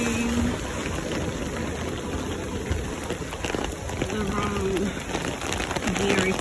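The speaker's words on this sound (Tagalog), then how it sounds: "Hindi ko na-anticipate na malakas ang ulan." Heavy rain falls outdoors in Canada while someone walks to school, making a dense, steady hiss of drops that lasts throughout, with brief faint voice sounds underneath.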